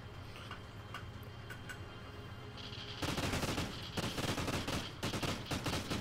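Gunshots in a competitive first-person shooter match: quieter clicking and scattered shots at first, then a loud, dense stretch of rapid automatic fire filling the second half.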